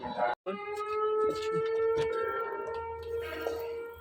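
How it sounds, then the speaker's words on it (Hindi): An iftar siren in Sargodha wails as one steady, sustained tone after a brief gap at the start, with faint background noise beneath it. "सायरन बज चुका है, सारे अफ्तारी करने जाएँ।"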